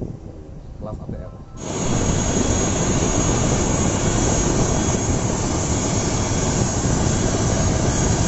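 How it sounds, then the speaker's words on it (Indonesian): ATR 72-600 airliner engines on a NAM Air flight from Melalan airport in Kutai Barat, a steady loud broadband roar that swells after a quieter opening second and then holds constant, close and continuous. "Kita menggunakan pesawat ATR 72600 yang mana ini termasuk pesawat yang paling baru ya di kelas ATR."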